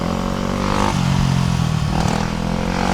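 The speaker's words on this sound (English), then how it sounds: "who showed up to an e-bike ride on a dirt bike?" A dirt bike engine revs loudly and close by at a group e-bike rideout in Miami, its steady drone swelling and easing over about three seconds with some clatter and no talk.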